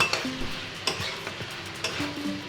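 Boiled small potatoes and vegetables fry together in a pan for a Ramadan rice dish, with a soft steady sizzle broken by several clear scrapes and taps of a stirring spoon, no voices.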